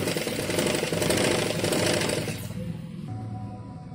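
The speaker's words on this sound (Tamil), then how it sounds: "அடுத்து வந்து இன்னொரு சைடு தையல் போட்டுக்கிறோங்க." A sewing machine runs fast along a blouse neckline, a loud, even mechanical rattle for a couple of seconds before it slows and stops, leaving a faint low hum.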